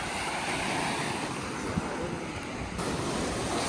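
Sea waves wash steadily on the Rameshwaram shore. The surf is a continuous hiss and rumble, mixed with gusty wind noise.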